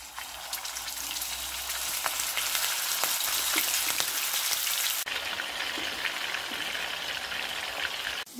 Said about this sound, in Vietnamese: Bây giờ thì mình sẽ đi chiên cái chả này.